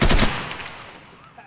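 SKS rifle gunfire in the video game Escape from Tarkov: a loud, close burst of shots opens the moment, then fades into an echoing tail.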